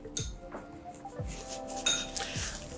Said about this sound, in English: let me stir it a bit in front of you